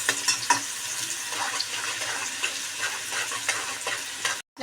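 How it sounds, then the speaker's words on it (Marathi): Chopped onion frying with chili in hot oil in a pan while making zunka, a steady close sizzle with light stirring scrapes throughout, no voices, cutting off abruptly at the end. "मस्त आता आपण कांदा ॲड करणार आहोत."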